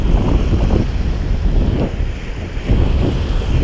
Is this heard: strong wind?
yes